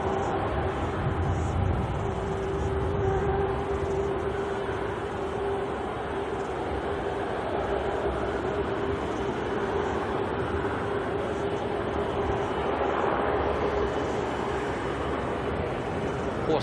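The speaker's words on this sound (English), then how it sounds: "We've got the Fiji A330 making its way up taxiway Bravo" A Fiji Airways Airbus A330 taxis at Auckland Airport, its jet engines a steady distant whine and broad roar that holds constant for the whole stretch, with faint wind noise.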